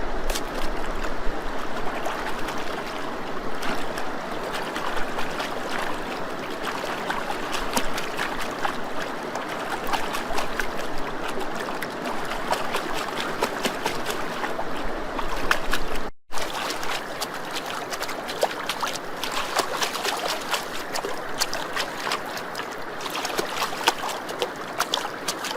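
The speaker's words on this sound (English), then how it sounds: "Sifting the garnet gravels in a gem sieve at Garnet Beach." Garnet gravels are sifted in a gem sieve in water at Garnet Beach, giving a continuous close-up wash of swishing, trickling water and rattling grit that runs steadily throughout.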